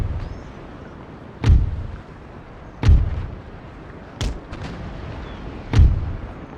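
Warship cannons fire in Empire Total War, four heavy booming shots spaced a second or so apart, each with a deep rumbling decay over a steady battle ambience.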